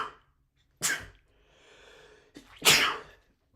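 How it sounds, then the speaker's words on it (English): A man sneezes twice, each a sharp close burst after a quick breath in, with a quiet pause between them. "I'm gonna sneeze before I explain the rest of this."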